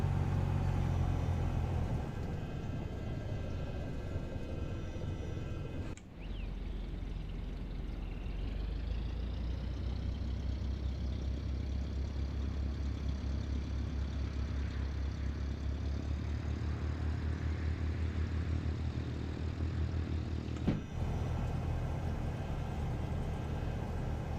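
A Cessna 172 Skyhawk engine run-up in X-Plane 12, a steady close piston-engine drone that rises in pitch and intensity, with two sharp clicks breaking the continuous roar.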